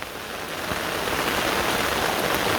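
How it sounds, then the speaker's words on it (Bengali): Heavy rain pours steadily and densely, a loud continuous hiss of drops hitting surfaces close by, with no voices. "অনেক দিনে যে এত বৃষ্টি আমি দেখি নেই"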